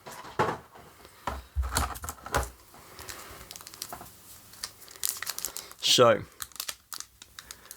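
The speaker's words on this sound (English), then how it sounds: "we will desperately try to figure out how to open a pack of cards" Foil wrapper of a pack of Battletech trading cards being crinkled and torn open, bursts of crackling between stretches of someone talking, with a sharp tearing rip near the end.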